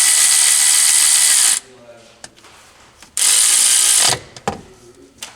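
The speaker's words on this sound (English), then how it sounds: "use something small like a 1/4 inch ratchet, and with your 8mm socket" A 1/4 inch ratchet with an 8mm socket tightening a cap during an oil change, with long loud whirring bursts and short clicks, close and harsh, and a few quiet sounds in the gaps.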